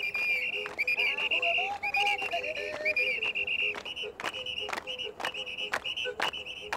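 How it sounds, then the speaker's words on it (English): A small whistle blown in short, wavering tones, then a run of quick sharp tapping clicks, close and fairly loud. "Now look at this little whistle."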